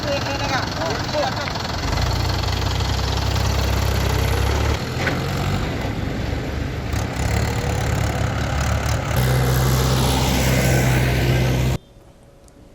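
A tractor engine idles with a steady low rumble, close and continuous, among tractors seized by police for illegally transporting sand; someone talks over it throughout.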